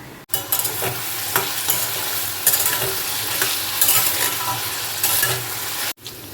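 Potatoes with poppy seeds frying in a home kitchen pan give a steady close sizzle with scraping stir strokes throughout, no voices.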